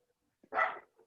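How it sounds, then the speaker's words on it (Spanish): A single short dog bark sounds from the background in a quiet room, brief and moderately faint. "se escucha mi perro de fondo"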